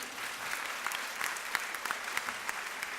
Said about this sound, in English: A big round of applause for Professor Nick Glozier.